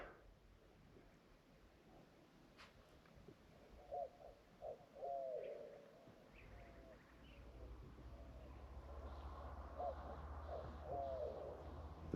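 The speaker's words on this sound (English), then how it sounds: "doves and the cactus wren" Doves coo softly in a saguaro forest in the Sonoran desert, short repeated hooting phrases at a distance, along with faint bird calls over a quiet outdoor hush and a low background rumble.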